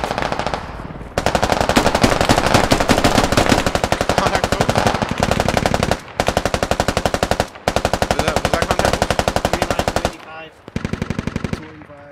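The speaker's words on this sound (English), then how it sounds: "Suppressive fire, I can't see them." Sustained automatic gunfire in a military video game, long dense bursts of rapid, loud shots with a few brief pauses and a shorter final burst.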